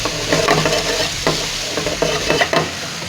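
Bell pepper sautéed in a pan with carrot, giving a steady loud sizzle broken by repeated scraping stirs, with no talk.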